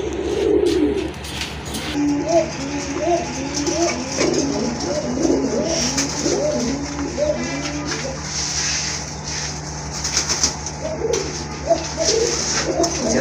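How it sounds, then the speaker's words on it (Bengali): A breeding pair of Indian Lotan pigeons coos steadily nearby in a run of soft, repeated throaty calls over a low constant hum. "এটা হচ্ছে আপনার ইন্ডিয়ান লোটনের একটা পেয়ার"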